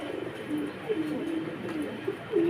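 Pigeons coo softly in a low, repeated burbling rhythm, several calls overlapping against a quiet background hum.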